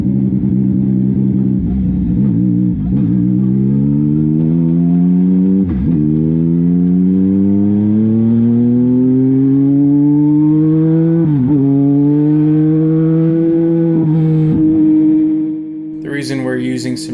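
Race car on a practice outing scrubbing in new tires, its engine droning loudly and rising steadily in pitch through the gears, with brief dips at shifts, heard close from onboard.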